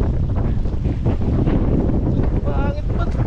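Wind buffets the microphone outdoors, producing a constant low roaring rumble that lasts through the whole stretch, while a voice speaks briefly near the end.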